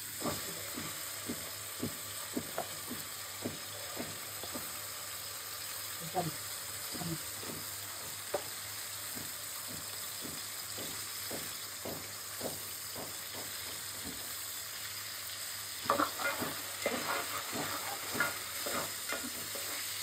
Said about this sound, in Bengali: পেঁয়াজটা ভালো মতো ভেজে নিই